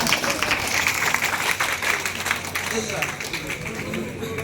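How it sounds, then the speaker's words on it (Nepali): An audience claps at a spiritual camp session, applause running steadily at moderate loudness across the whole stretch, mixed with crowd murmur. "ताली बजा दो इसके लिए"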